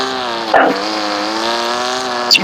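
A car in a racing video game drives with a steady, buzzy engine tone that holds at a constant pitch, broken by two brief sharp bursts.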